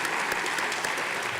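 Sustained audience applause at an energy summit following thanks to a sponsor, a dense steady wash of many hands clapping throughout with no voices over it.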